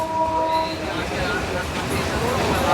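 A train running on the Kolkata Circular Railway gives a steady, close rolling rumble across the whole stretch, with a few faint tonal whines rising above it.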